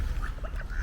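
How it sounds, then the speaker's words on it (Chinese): A wild duck quacks a few times in quick succession in a park with reeds and water pavilions, close and clear. "这还有这个野鸭呢"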